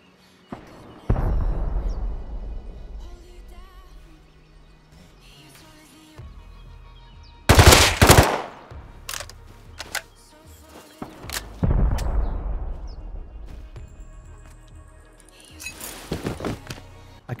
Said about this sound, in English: I couldn't really locate where the AK guy was shooting